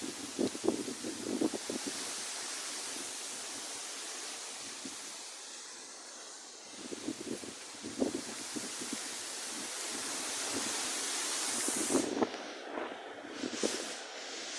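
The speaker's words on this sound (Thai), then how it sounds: "ที่มีทั้งฝนทั้งลม พัดกันโชคเลยทีเดียวนะคะ" Strong gusty wind with light drizzle blows as a steady broadband roar across open ground, with bursts of flapping and rustling that swell and fade over several gusts.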